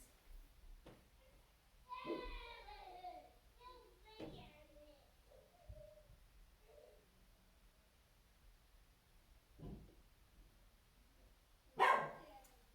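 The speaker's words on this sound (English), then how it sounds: "And there's my dog." A dog indoors barks a few times at someone walking outside, short muffled barks spread across a quiet room, with faint talk in between and a sharp noise near the end.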